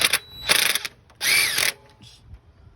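An impact drill rattles in short bursts while bolting an alternator onto a 2003 Ford Ranger, a few loud ratcheting hits with brief pauses and no talking.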